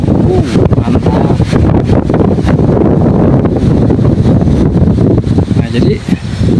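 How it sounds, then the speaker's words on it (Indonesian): Strong wind roars on the Mount Manglayang trail via Baru Beureum, a loud, constant, buffeting rush against the microphone with faint, indistinct voices under it. "anginnya itu dari sini ke sini gitu, seperti itu kawan-kawan"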